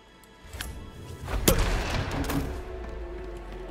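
Gunfire erupts in Hitman 3 at a Dartmoor mansion, a few sharp shots and thuds around a louder central crack, with fainter scattered reports fading in a reverberant interior.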